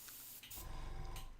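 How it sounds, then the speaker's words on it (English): Aerosol spray paint hisses in short bursts from above onto Space Marine miniatures, a brief puff followed by a longer, steady close-up spray. "Again, just spraying from above, just to lighten those top sections a bit and just enhance that"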